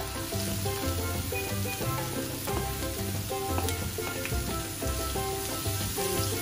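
Carrots frying in a pan for Trinidad fried rice, a continuous close sizzle with light stirring and clinks, steady and moderately loud under faint background music, no talking.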